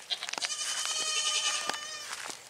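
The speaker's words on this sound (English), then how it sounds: "What are you doing, goats?" A farm goat near new pallet fencing gives one drawn-out, wavering bleat up close, loud and alone, with a few light knocks around it.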